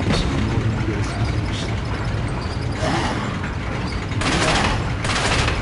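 Crossbow-wielding enemies firing shots in Resident Evil 4, sharp mechanical releases and impacts scattered among dense game noise, with a couple of louder bursts near the end.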